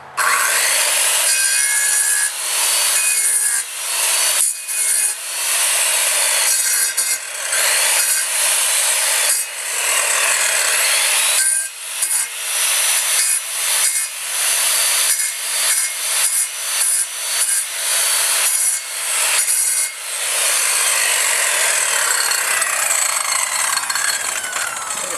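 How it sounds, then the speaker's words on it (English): Skill saw tapering down wood pieces for a wind turbine build, a loud continuous whining cut that runs almost nonstop with brief dips as the blade bites and eases through the timber. "just took the skill saw and I tapered these down just a little bit"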